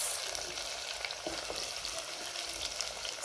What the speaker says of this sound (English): This is our palm oil. We added in our onions.